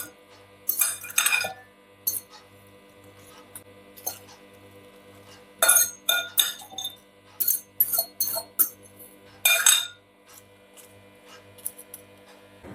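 Prosciutto and pear salad is moved into a serving bowl, with clusters of sharp metallic clinks and scrapes of utensils against the dish in a few irregular bursts over a faint steady low hum, close and without speech.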